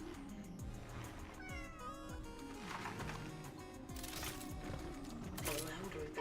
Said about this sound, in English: The louder the meow, the more urgency you're trying to communicate.